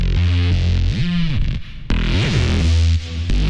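A synth bass rebuilt in Ableton's Wavetable synth plays alone for a few seconds: loud, distorted and buzzing, with gliding pitch swoops and a sharp click partway through.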